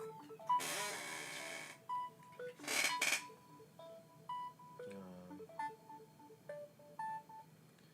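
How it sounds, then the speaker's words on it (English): A telephone rings in short repeated electronic trills at a distance, along with scattered beeps and clicks in a quiet room. "There's a phone ringing."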